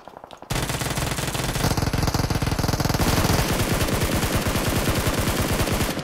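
An Uzi submachine gun fires in long rapid bursts in PUBG, a loud, dense stream of shots with a steady fast rhythm.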